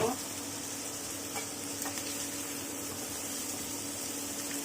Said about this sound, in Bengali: মাছগুলোকে আমি নেড়ে চেড়ে হালকা ফ্রাই করে নিয়ে নিয়েছি।